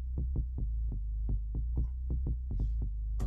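A SubBoomBass synth bassline plays from a MIDI clip, deep sustained low tones under a quick, steady run of short plucked note attacks, close and alone.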